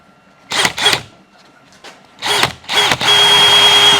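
A power drill bores a hole through a wall near a 2x4 stud, running in several short bursts and then one steady whine at the end, loud and close.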